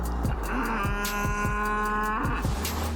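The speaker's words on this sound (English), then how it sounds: "That sounds more like a cow." A sustained mooing tone runs over steady background noise, with repeated thumps and engine-like sounds around it in a short loud stretch.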